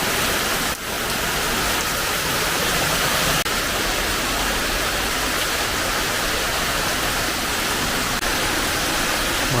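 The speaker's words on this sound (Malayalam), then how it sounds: "നല്ല ശക്തമായ മഴയാണ്" Heavy rain pours down in a dense, unbroken hiss, loud and steady throughout, with a couple of faint knocks and no voices.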